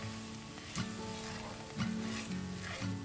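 Mushrooms, minced garlic and fresh thyme, sage and rosemary sizzle steadily in a hot pan, with a soft continuous crackle and a few brief stirring scrapes, close and moderately quiet.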